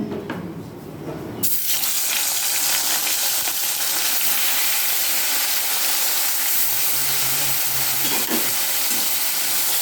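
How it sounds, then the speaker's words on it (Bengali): Fish sizzling in hot mustard oil in a wok for katla fish rosha, a loud, steady hiss that bursts in suddenly after a quieter start and stays dense and constant throughout. "তারপর তেলটা বেশ ভালো মতো গরম হয়ে গেলে একে একে মাছগুলো ছেড়ে দেব।"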